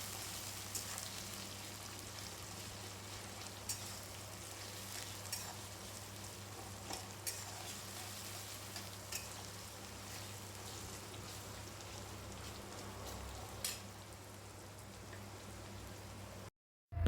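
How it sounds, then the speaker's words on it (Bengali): Sliced onions fry in a pan while being stirred to brown, a quiet, steady sizzle with faint scraping, ending abruptly with a brief louder knock. "তারপর পেঁয়াজগুলোকে ভালো করে নেড়ে চেড়ে কিছুক্ষণ ভাজতে দিতে হবে, বেশ ব্রাউন ব্রাউন হওয়া পর্যন্ত।"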